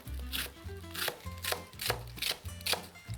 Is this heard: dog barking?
no